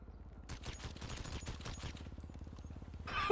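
A new gun fired in single-fire mode in GTA NoPixel, heard as a fast, even run of sharp, close shots lasting a few seconds before stopping.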